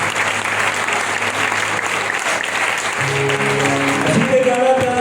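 Sustained applause from a church congregation claps steadily throughout, with a voice beginning to speak in Spanish over it near the end.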